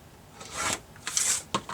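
Rotary cutter slicing along a ruler as a fabric quilt block edge is trimmed, giving a few short rasping cuts close by, with no talking.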